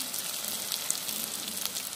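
Chopped tomatoes hit hot oil with frying ginger and garlic for mutton kurma, giving a steady, close, crackling sizzle with no talk.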